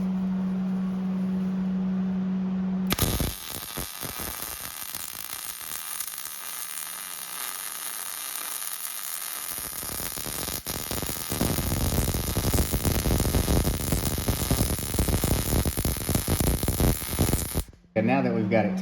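MIG welding on a shortened Chevrolet C10 truck bed, a loud crackling, hissing arc that starts after a quiet moment and burns steadily in a long continuous bead before cutting off near the end.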